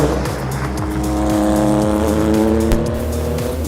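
An Acura race car with an SUV-derived engine driving at speed on a track, a loud sustained engine roar from inside the car with rising and falling pitch through gear changes.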